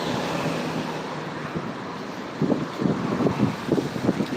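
Wind blowing outdoors with heavy buffeting against the microphone, a continuous rushing roar that grows gustier and more uneven in the second half.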